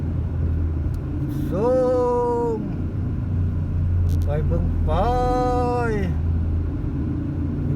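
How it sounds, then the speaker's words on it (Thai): Steady low engine rumble from a jammed stretch of Sukhumvit Road in Bangkok, with two brief high, wavering tones rising over the idling traffic. "สุขุมวิทถนนที่ว่า รถติดหลายที่สุดในโลก"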